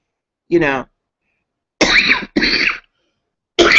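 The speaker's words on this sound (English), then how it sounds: "Excuse me for coughing." Three harsh, close coughs, one short and then a pair in quick succession, separated by silence.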